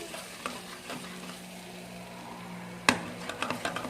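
Egg being stir-fried in a pan with zucchini-type gourd, a steady low sizzle with soft scraping stirs and a sharp utensil knock near the end, no talking.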